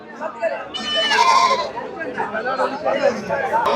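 Sheep and goats bleat repeatedly at the Ranipet livestock market, loud nearby cries under busy crowd chatter as people talk close by.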